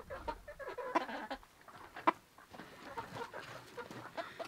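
Backyard chickens on a homestead cluck softly in a quiet, low-level scene, with scattered short calls and a brief sharper peck or clink near the middle.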